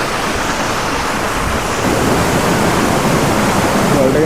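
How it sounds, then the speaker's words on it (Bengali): Seven Star waterfall in Yumthang Valley near Lachung, North Sikkim, pouring from high on a mountainside: a loud, constant rushing roar of falling water, close by and unbroken. "এখন আমরা এসেছি 7 স্টার যে ওয়াটারফলস আছে সেখানে"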